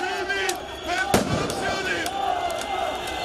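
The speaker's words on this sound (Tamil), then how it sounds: "காவலர்கள் மீது சிலர் பட்டாசுகளையும் கற்களையும் வீசி தாக்குதல் நடத்தினர்" Firecrackers hurled at police during a street protest crack sharply once amid a noisy, shouting crowd, with a few fainter pops scattered through the din.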